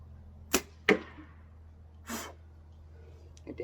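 Arrows released from a bow during outdoor archery practice, with two sharp snapping releases close together, then a softer thud and a faint later click, set against quiet steady background hum.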